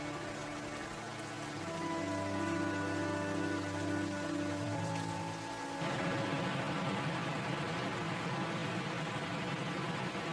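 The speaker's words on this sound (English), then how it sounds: "The warm rains wash the forest clean and fill the river to its banks." Warm spring rain hisses steadily through a forest while sustained musical tones play in the first half and then give way to denser, broadband patter.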